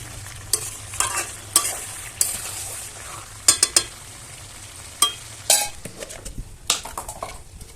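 Potatoes are stirred into a simmering country chicken curry in a pot. Irregular metal spoon clanks and scrapes against the pan sit over a faint background sizzle, close and fairly distinct.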